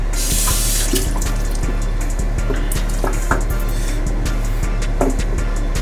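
Water running steadily from a bathroom tap into a sink while a man wets his face, a continuous close splashing rush with small drips and hand splashes.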